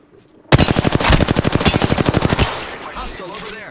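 Close, loud automatic gunfire in the battle royale shooter Apex Legends: a fast, evenly spaced burst of about two seconds that cuts off into quieter game ambience.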